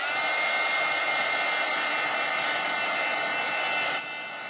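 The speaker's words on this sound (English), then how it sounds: "I'm going to heat it up with my heat tool just for a second and melt that glue" A handheld heat tool blows hot air to melt craft glue on a shadowbox, a loud steady close whoosh and whine that drops suddenly to a lower hum near the end, no speech.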